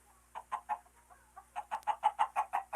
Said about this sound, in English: on every farm we have chickens